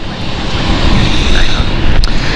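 Loud, continuous roar of a brand-new ITA Airways Airbus A220 departing London City Airport, a broad steady jet engine rumble heard close, with a faint voice underneath.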